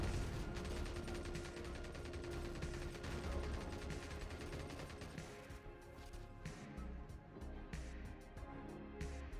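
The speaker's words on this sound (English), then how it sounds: "the constant bombardment by mortars isn't doing it" Constant mortar bombardment in a video game: dense, continuous rumbling blasts and crashes keep up without pause, loud and busy throughout.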